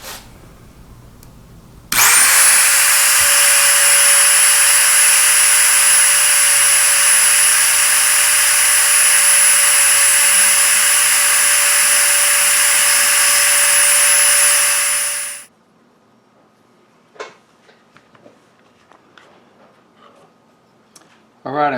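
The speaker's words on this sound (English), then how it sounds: "this Dremel is installed in my StewMac router base" A Dremel rotary tool mounted in a StewMac router base routes wood for a scarf joint guitar neck, a loud steady high-pitched whine that starts abruptly, holds for about thirteen seconds, then stops, leaving faint clicks and handling sounds.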